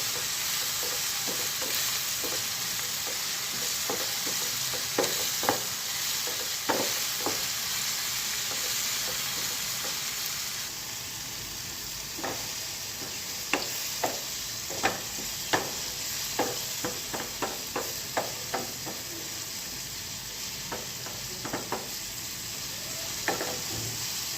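Upma with green chillies cooking in a pan, a continuous soft sizzle and steam hiss with scattered spoon taps and scrapes, busier in the second half.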